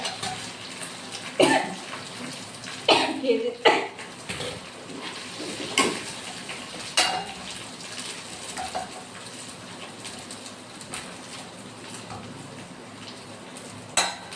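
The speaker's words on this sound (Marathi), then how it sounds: "मी टमाटर कापत राहावे की अंगावर उडतात ते बिया" A knife cuts tomatoes in a home kitchen, giving irregular sharp taps and clicks against the board. The taps are clustered early and grow sparser later, over a low background hum.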